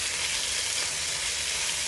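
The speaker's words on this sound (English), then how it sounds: "You want to hear that sizzle." Loud, steady sizzling of chicken frying in hot oil in a hot pot, a bright crackling hiss with no voices.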